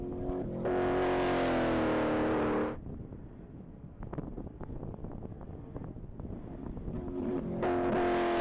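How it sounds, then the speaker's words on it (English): A 1983 Datsun 280ZX race car accelerating hard on a mile-long top-speed track, its engine loud and close at first, then fading into buffeting wind noise before the roar returns near the end. "That's Donald Vance in his 1983 Datsun 280ZX."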